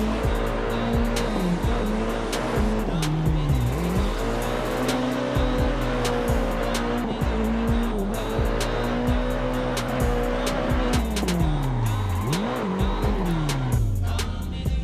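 Two cars tandem drifting in Assetto Corsa played in virtual reality, engines revving up and down in repeated surges with continuous tire squeal, loud and sustained throughout with no talking.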